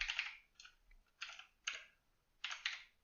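Someone types on a computer keyboard in short, quiet bursts of clicking keys separated by brief pauses, close to the microphone and with no talking.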